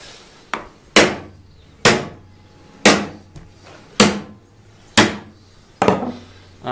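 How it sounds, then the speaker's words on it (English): Sharp hammer blows striking metal pins, about one per second, each ringing briefly before the next; close and loud with no talking. "I'll just hammer in these pins."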